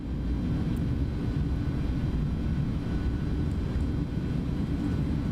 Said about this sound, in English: More reverse thrust just so we can stop a little bit more.